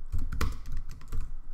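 Close clatter of typing on a computer keyboard, a quick burst of several clicky keystrokes in an uneven rhythm, clear and alone.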